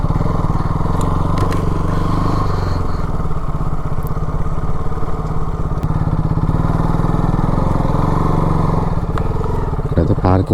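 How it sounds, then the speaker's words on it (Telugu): A motorcycle engine drones loudly and steadily at a campsite in the Thar Desert near Jaisalmer, with a continuous mid-pitched rumble and occasional clatter, while a voice talks over it. "మొత్తం స్కిడ్ అవుతుంది బైక్ అయితే"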